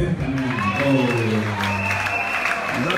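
Wedding guests at a religious ceremony break into applause, a crowd clapping with voices talking over it.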